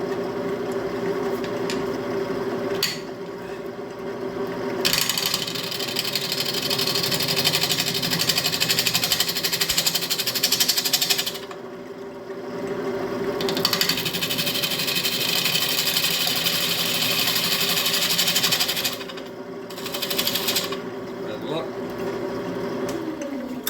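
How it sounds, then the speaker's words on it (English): A wood lathe turns a bowl while a 1/2 inch bowl gouge dresses the rim, a continuous steady whirring drone with short breaks where the cut pauses. "this is my 1/2 inch bowl gouge. Now we're going to dress up the top rim of it."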